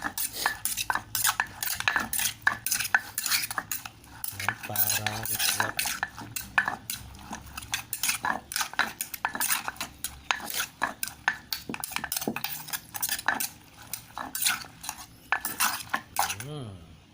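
Steady, repeated knocking and scraping of a pestle pounding cucumber salad in a mortar, with clattering utensil sounds, brisk and close throughout.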